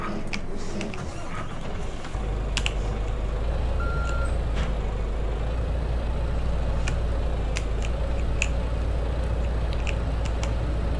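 Reversing beeps from a water truck in the Farming Simulator video game, a steady series of tones over a constant low engine drone, with no talk.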